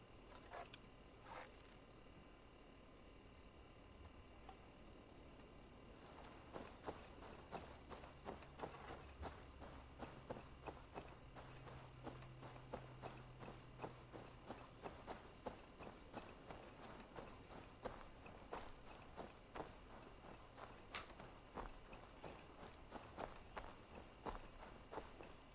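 Horse hooves in Assassin's Creed Valhalla, a steady, quick clip-clop of footfalls that starts after a few seconds and continues evenly at moderate volume, alone with no talk.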